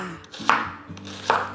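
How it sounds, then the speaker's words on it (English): A knife chops onion and garlic twice on a cutting board, two crisp thuds spaced apart in a quiet kitchen. "So I am just chopping some onion and garlic to flavor the meat."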